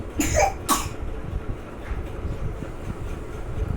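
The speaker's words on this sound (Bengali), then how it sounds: "মাঝে মাঝে কাশি করতেছে তো সেটাও হয়তো শোনা যাচ্ছে" A person with a cold coughs twice close by early on, sharp bursts followed by low steady background rumble.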